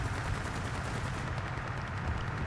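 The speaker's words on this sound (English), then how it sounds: "Tries to shoot it down with the old MG." A BF-110's machine gun fires in War Thunder, a steady dense burst of rapid shots that stays loud and continuous throughout, with no talk over it.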